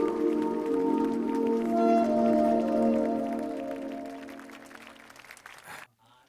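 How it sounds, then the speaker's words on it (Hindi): Spectators at a team competition clap steadily for several seconds under a sustained musical tone, the applause tapering off before it cuts abruptly to near silence. "अपनी तालियों की आवाज को रोकने मत दीजिएगा"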